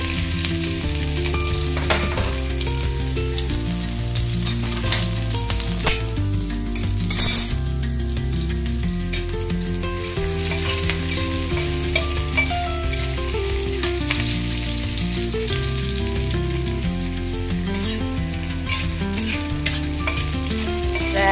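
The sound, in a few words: onions frying in oil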